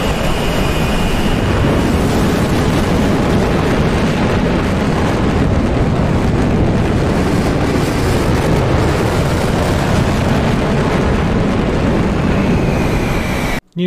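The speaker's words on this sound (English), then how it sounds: "new afterburner sounds" A loud, continuous roaring rush of F-14 Tomcat afterburner exhaust in the DCS World flight simulator, broadband and steady throughout, close by, cutting off abruptly at the end.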